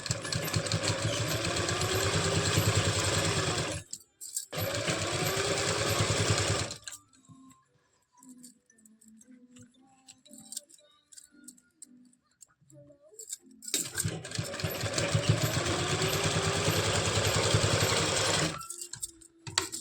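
A sewing machine stitches elastic into the waistband of palazzo pants in two loud, sustained close runs, with a quiet stretch of fabric handling and small clicks between them.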